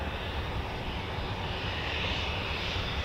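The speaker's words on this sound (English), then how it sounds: "The Embraer ERJ145 down back to Wharton Aerodrome." An Embraer ERJ145 regional jet at Warton Aerodrome gives off a continuous, even engine roar with broad hiss, moderately loud and unbroken throughout.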